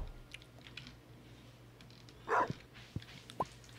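A single short dog bark from the farming video game Stardew Valley, sounding once over a steady low in-game background hum, followed by a few faint clicks.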